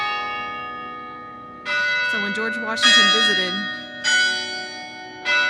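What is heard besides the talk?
church bells ringing at St. Philip's Church, Charleston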